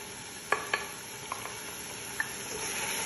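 Shrimp kabsa in a pan being stirred, with a steady sizzle and a few short utensil scrapes and taps standing out close by.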